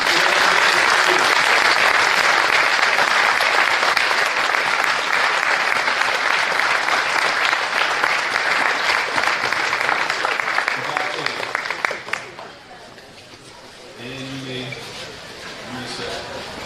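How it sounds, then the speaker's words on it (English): Sustained, loud applause from a large commencement audience at an academy graduation, dense and continuous for about twelve seconds before fading out, then a voice speaks over a quieter room. "give your families, friends, supporters a round of applause and thanks"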